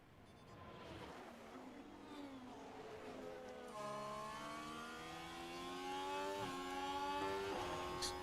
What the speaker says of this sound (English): I think it will start a cascade of cars leaving